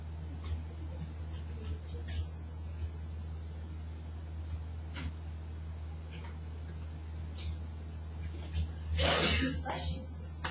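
In a classroom during a lesson, a single sharp sneeze bursts out near the end, louder than the faint background murmur, clicks and occasional bumps that fill the rest of the room tone.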